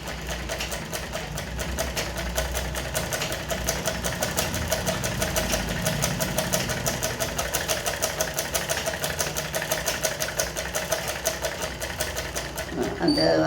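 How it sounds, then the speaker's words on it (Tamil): A sewing machine stitches a shirt lining in a steady, fast mechanical chatter of rapid needle strokes that runs close and continuous for several seconds, then stops near the end. "அதுக்கு பிறகு தைக்க ஆரம்பிக்கிறோம்."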